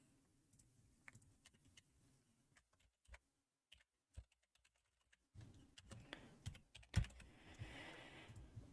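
Typing on a computer keyboard during a crypto live stream, with scattered key clicks early on, a brief lull, then a denser, louder burst of rapid keystrokes toward the end.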